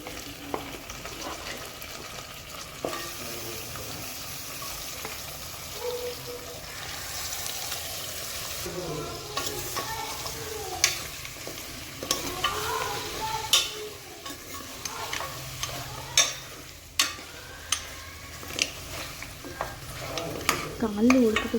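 Goat trotters fry in oil with onions, giving a quiet, continuous sizzle broken by repeated scraping stirs and utensil clinks against the pan, growing busier toward the end.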